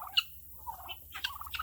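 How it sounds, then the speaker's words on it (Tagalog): A mean turkey on a Texas farm gobbles in short bursts, loud and close, with chattering fowl calls between them and no one talking. "This turkey is very mean."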